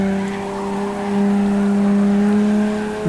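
A video game car's engine drones at a steady, strained pitch while drifting, a sustained hum with faint tire noise beneath it, loud and continuous with no talk.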